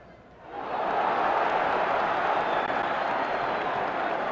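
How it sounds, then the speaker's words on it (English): A boxing crowd at the Floyd Patterson vs Oscar Bonavena fight swells into a loud, sustained roar of cheering that rises sharply and then holds steady. "Patterson brought the crowd up with that one."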